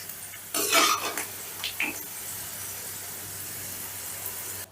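Deep-fried onions being lifted out of hot oil, a burst of crackling sizzle and a few scraping clinks of a spoon, then a softer steady bubbling hiss in the background.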